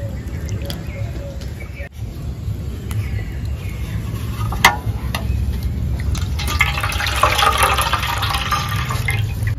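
Water splashes and runs over chhana (cottage cheese) as it is washed for rasgulla, a steady wet rush that builds toward the end.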